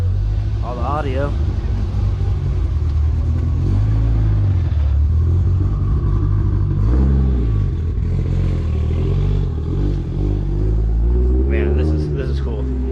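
Toyota Supra Mk IV engine being recorded for Gran Turismo 7, a loud close rumble with rising revs and clattering, heard under people talking.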